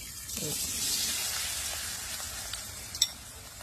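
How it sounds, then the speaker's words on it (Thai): Shrimp fry in hot oil in a home kitchen with a steady, soft sizzling hiss and a few small pops and clicks near the end. No one talks. "ก็เลยจะมาทำกุ้งทอด นี่ค่ะ"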